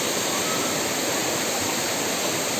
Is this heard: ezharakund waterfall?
yes